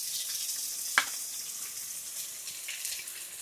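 Green chilies and onion fry together in a pan, giving a faint, steady sizzle with a single sharp click partway through and no talking.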